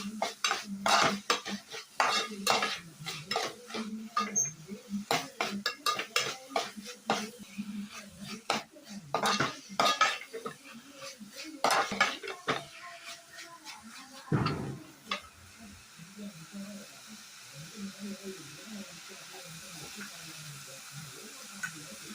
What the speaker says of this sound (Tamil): தக்காளியும் வெங்காயமும் ரெண்டும் நல்லா மிக்ஸ் பண்ணிக்கலாம்.